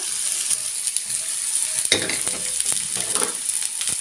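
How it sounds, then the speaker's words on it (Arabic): Onions sizzling in a small amount of oil in a pan on a gas stove, a steady crackling fry with a stir around midway, close and moderately loud with no talk. "معانا طاسة على البوتاجاز بتاعنا فيها كمية من الزيت زي ما انتم شايفين، مش كتير. هنبتدي نحط فيها البصل بتاعنا"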